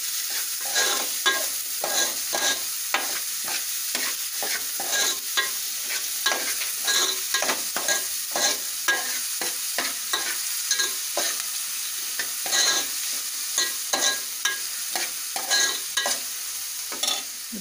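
Chopped onion fries in hot oil in a pan for Maharashtrian zunka, giving a steady close sizzle broken by repeated scraping stirs of the spoon, with no voices.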